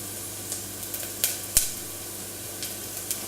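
Garlic frying in a pan gives a soft, steady sizzle with a few sharp pops and spits, quiet and close, heard alone.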